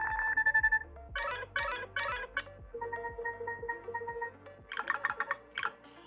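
Preset ringtone on a Nothing Phone 4a Pro, a bright synthetic melody of short chiming note bursts in quick rhythmic clusters, played clearly and alone at close range.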